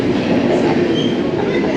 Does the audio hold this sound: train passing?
yes